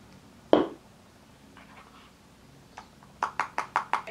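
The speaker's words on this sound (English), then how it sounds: "Let's put some setting spray." A makeup setting spray bottle gives one sharp close hiss of mist, followed after a quiet pause by a quick run of five short, rhythmic spritzes.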